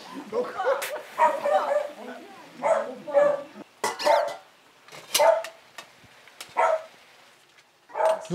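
A pet dog barks and yips in short bursts indoors, a string of sharp barks spaced a second or so apart, while people talk around it.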